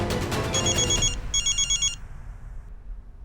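A telephone rings in a comedy drama scene: two loud bursts of bright electronic trilling, close by, then quiet.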